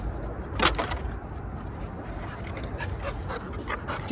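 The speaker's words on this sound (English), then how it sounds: "That's the dog." A dog panting softly nearby in an outdoor park setting, a steady breathy rhythm under low background noise with a brief louder rustle early on.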